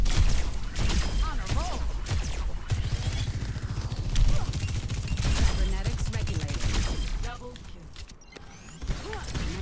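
Rockets firing and exploding in Overwatch 2, a dense barrage of blasts and gunfire filling a busy, loud battle with a voice talking over much of it.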